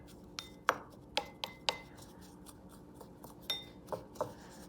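A utensil stirs Argentinian chimichurri ingredients in a bowl, making a handful of sharp, close clinks and light scrapes at an irregular pace. The sounds are faint and separate, with no talk.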